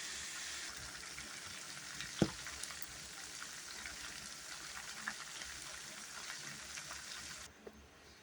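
Garlic and onion sautéing in a little oil in a pan, a steady close hiss of sizzling that holds throughout, with a sharp clatter early on, then cuts off near the end.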